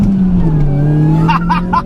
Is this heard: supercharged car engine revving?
yes